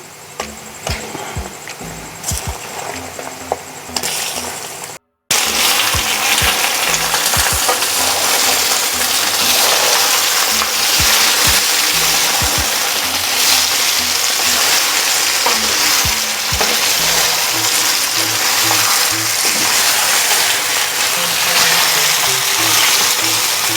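Chicken frying with golden-brown onions in a pan, a loud, dense, continuous sizzle close up, broken by scattered clicks and scrapes of a utensil, after a quieter opening and a brief gap near the start.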